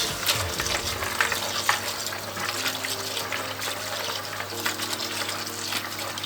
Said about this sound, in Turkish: Ve aşuremi şöyle bir daha karıştırıyorum.